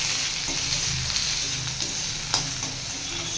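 Onion and garlic fry in a pan with a steady, dense sizzle, punctuated by faint scraping and stirring sounds, close and continuous.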